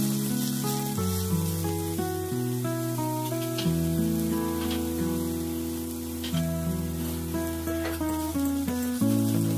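Onion paste frying in hot oil with dried chilies and fenugreek gives a steady, rain-like sizzle running beneath louder melodic background music for the whole stretch.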